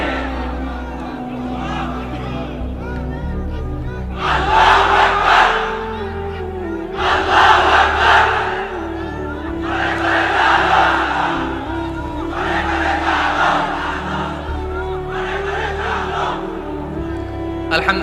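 A large gathered crowd shouts takbir in unison in answer to an Islamic preacher, several rhythmic collective roars repeating at regular intervals, loud and reverberant over a low background rumble.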